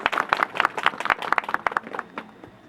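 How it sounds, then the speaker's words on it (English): An audience gathered for a Canadian High Commission event with a youth hockey game and dancing claps, giving a brisk round of close, dense applause that thins out toward the end. "I want to do a big round of applause and a thank you for all of our young participants"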